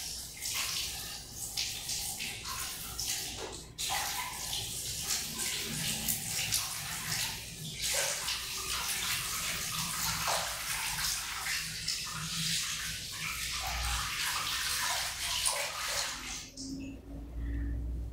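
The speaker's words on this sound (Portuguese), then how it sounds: "eu vou lavar a planta agora" Steady running water rinses a rotten desert rose plant, a continuous close splashing wash that fills nearly the whole stretch before cutting off near the end, with no talk over it.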